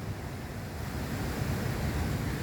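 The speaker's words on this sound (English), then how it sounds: "The waves are crazy." Rough ocean waves crash and churn on a very windy, misty day, a loud continuous wash of surf mixed with heavy wind buffeting the microphone.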